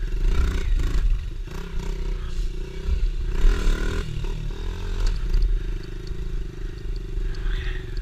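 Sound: motorbike engine riding through the woods at night

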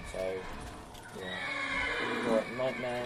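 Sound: horse neighing and hooves in Minecraft video game

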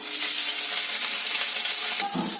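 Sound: boiled soybeans frying in hot mustard oil

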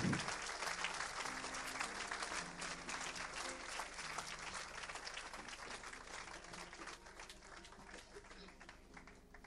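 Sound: congregation applauding

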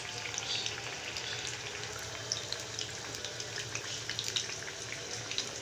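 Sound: potato chips frying in oil

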